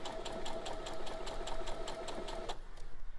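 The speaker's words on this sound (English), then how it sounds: "we're just going to sew that line" A sewing machine stitches a seam a quarter inch from the line for foundation paper piecing, its rapid even needle rhythm running steadily close up for about two and a half seconds before stopping.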